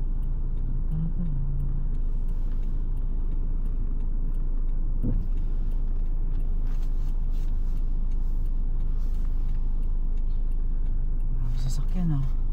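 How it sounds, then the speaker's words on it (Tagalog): Dense, continuous roar of many cars passing on a busy road in New Zealand, loud and close throughout, with people talking over the traffic. "Marami sasakyan ah."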